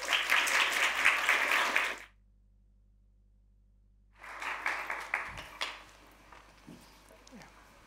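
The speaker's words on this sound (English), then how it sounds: "Can we get a quick round of applause for our exciting speakers?" Quick audience applause for speakers at a talk on the Biological Weapons Convention, with dense clapping for two seconds, a silent gap, then a second, looser burst that tapers off.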